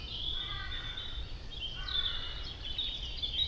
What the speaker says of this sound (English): apparently that bird making that mad noise is a grey wagtail